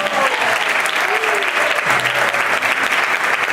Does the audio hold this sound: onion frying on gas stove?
no